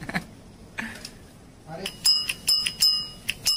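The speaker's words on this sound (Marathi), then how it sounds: "ही बेल पण पहिलीवालीच होते ना आपली" An original bell on a fifteen-year-old bicycle under restoration rings several times in quick succession, bright metallic dings close up after some quiet handling noise.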